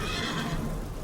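A horse neighs loudly and close by, a brief shrill whinny with a quavering tone.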